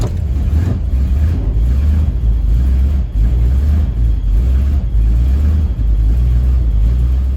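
A Chevrolet Suburban engine holds a steady low rumble on a cold start with a bit of throttle, the revs rising and dipping slightly in a continuous, close drone.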